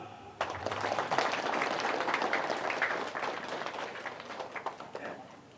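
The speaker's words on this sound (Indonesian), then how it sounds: "Tepuk tangan." Audience applause at an Indonesian religious talk, a burst of clapping that starts suddenly, holds steady and dense for several seconds, then thins out toward the end.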